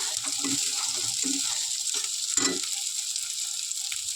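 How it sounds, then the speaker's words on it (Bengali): Onions fry in a pan until reddish-brown, a steady close sizzle punctuated by a few soft scraping stirs and one louder clunk of the spoon, with no one speaking. "তাহলে ভালো করে পেঁয়াজটা লাল লাল করে ভেজে নেব।"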